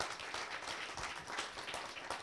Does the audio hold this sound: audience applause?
yes